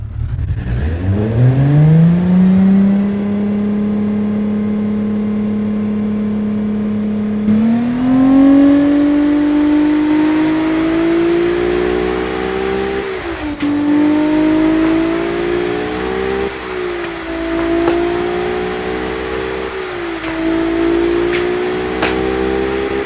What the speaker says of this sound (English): The engine sounds like any normal V6 really.